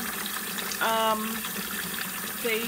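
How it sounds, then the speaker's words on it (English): Cold water runs steadily from a kitchen tap into a sink, a continuous close rushing gush with a brief swell partway through. "I've got my cold water turned on"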